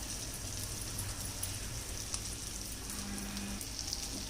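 Eggs fry in oil on a tawa, giving a soft, steady sizzle throughout, fairly quiet with no talking.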